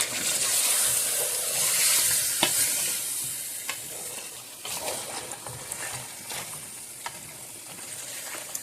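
Chicken for haleem fries in a pan with a steady, soft sizzle, broken by several sharp scrapes and knocks of a spoon stirring the pieces.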